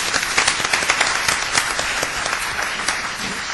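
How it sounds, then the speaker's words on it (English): An audience at a teaching seminar gives a panel of experts a round of applause, a loud, dense, continuous clapping of many hands with no talking over it. "Let's give them another round of applause."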